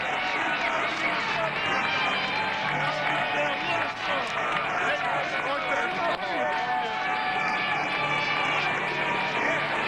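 A record crowd of over 32,000 roars at the 1994 World Championship of Basketball final at the SkyDome in Toronto, a dense, sustained wash of cheering and applause filling the whole stretch, with a commentator talking over it.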